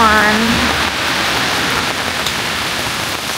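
Steady rain hisses loudly and evenly throughout in Kyoto, a dense wash of noise with a brief voice-like tone at the very start.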